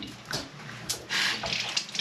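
Tap water running over a microfiber cloth at a sink, a steady rushing splash with brief surges as the cloth is wetted, close and without any talking.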